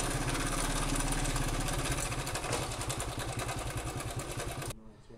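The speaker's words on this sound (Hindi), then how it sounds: "लेकिन दोस्तों ये आवाज़ हमारा जो टाइमिंग चैन होता है ना वो आवाज़ करता है।" A Honda CD70 motorcycle engine with a worn timing chain idles up close, a fast, regular ticking rattle running over the steady putter before the engine cuts off abruptly near the end.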